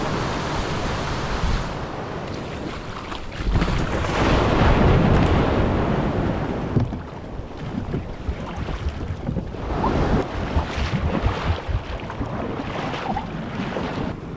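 Ocean surf crashes and rolls in a heavy swell while a Pro Angler fishing kayak is launched through the waves, with loud breaking surges and gusty wind buffeting the microphone throughout.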